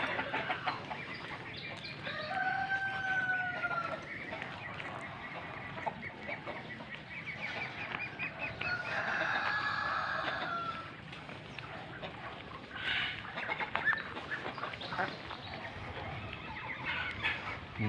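A flock of chickens and roosters, including Rhode Islands, clucking at feeding time on a farm, with steady overlapping clucks, a couple of clear crows and busy background noise, quiet talk faintly under it.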